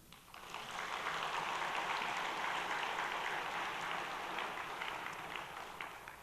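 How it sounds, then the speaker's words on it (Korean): A church congregation claps during a Korean sermon, a dense, steady wash of applause rising quickly and holding evenly before easing slightly toward the end. "박수."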